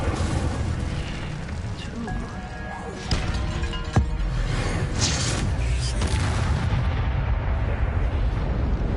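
A fiery Incendio spell blast erupts in the Hogwarts Legacy video game, heard as dense, loud crackling effects with sharp impacts near the third and fourth seconds.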